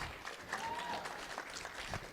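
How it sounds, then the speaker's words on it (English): Faint audience applause at a self-determination conference session, scattered clapping heard at a distance with a little crowd noise mixed in. "Give a round of applause."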